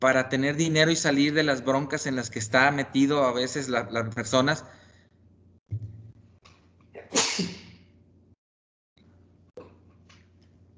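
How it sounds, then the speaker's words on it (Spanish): A single sharp sneeze bursts out after a man's continuous Spanish speech, loud and close, followed by quiet room tone. "Es que estornudé."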